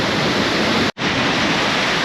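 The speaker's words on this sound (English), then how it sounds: "the water's getting squeezed into that little channel" River water rushes through a narrow canyon channel in a dense, loud, continuous roar, broken only by a brief cut before resuming steadily.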